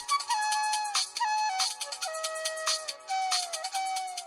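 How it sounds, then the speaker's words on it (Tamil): A phone rings with an incoming call, its electronic ringtone playing a bright repeating melodic pattern clearly and alone for several seconds. "ராதிகா தான் ஃபோன் பண்றாங்க."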